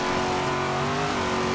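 A car in the racing game Forza Horizon 3 accelerates hard during a Corvette versus BMW i8 race, its engine a loud, sustained roar with pitch climbing steadily throughout.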